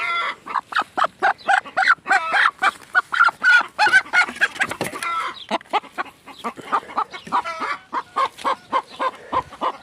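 A free-range hen clucks loudly and close while laying eggs, a rapid run of sharp repeated clucks and squawks rising into an excited cackle, with other farmyard fowl noise mixed in.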